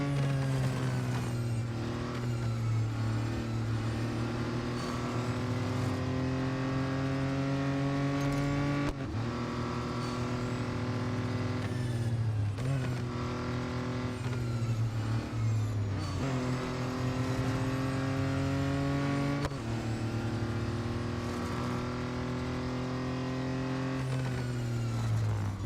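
Racing car engines in Real Racing 3, with an Audi Quattro B2 in the field, rev and accelerate continuously, climbing through gears in repeated rising whines with brief shift drops, loud and sustained with no talk.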